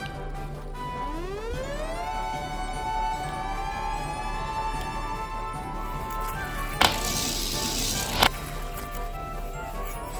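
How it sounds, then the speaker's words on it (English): A toy ladder fire truck's siren winds up from low to a steady high wail and holds there, joined midway by a brief burst of broadband noise between two sharp knocks. "Let's go, ladder truck."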